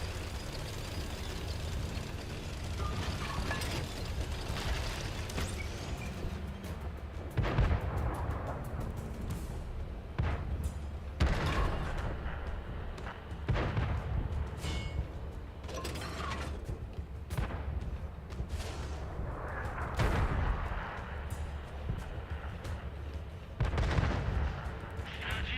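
Tank cannon shots from the console version of World of Tanks, a lower-tier match, boom out every few seconds as sharp loud blasts over a constant rumbling engine and mechanical drone.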